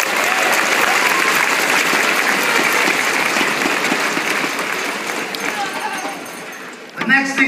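An audience at a Manulife corporate kickoff event applauds for the team's record sales year, a loud, sustained wash of many hands clapping that fades slightly toward the end before a brief burst of closer clatter.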